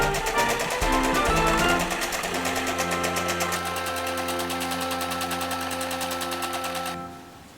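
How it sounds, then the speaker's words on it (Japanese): A sewing machine runs fast, stitching gathers where front and back sleeve pieces of a child's garment are joined, a rapid even mechanical rattle close by that slows and stops near the end. "前袖と後ろ袖を合わせてギャザーミシンをかけていこ"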